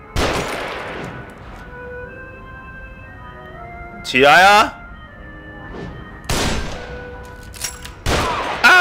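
Gunfire in The Evil Within, a horror video game, comes as a few sharp, loud bursts spaced several seconds apart, with someone shouting excitedly over the game's ambience.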